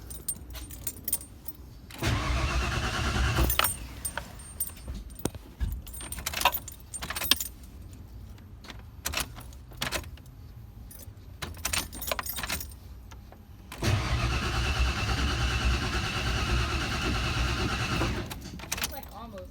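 A 1992 Ford F150 with a newly installed fuel pump cranks in two separate bursts, loud and close, while the engine fails to catch. Quiet clinks and handling noises fill the gaps between the attempts.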